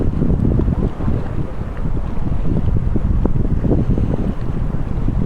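Strong wind roars steadily and loudly across the microphone on a beach at night in Khobar, with a low rumbling rush and no voices.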